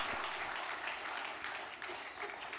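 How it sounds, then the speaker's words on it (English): Techweek audience bursts into sustained applause, a dense wash of many hands clapping steadily throughout, fairly distant and even in loudness. "let's make a thunderous round of applause for Techweek"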